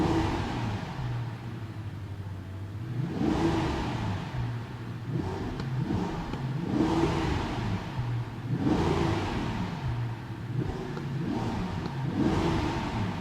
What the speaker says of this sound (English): Let me just rev the car a few times for you